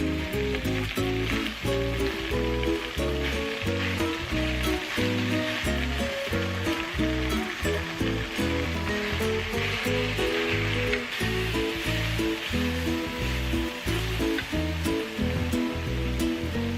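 Cabbage and bacon fry in a pan with a steady, loud sizzle and crackle that runs unbroken throughout, while soft music plays underneath and no one speaks.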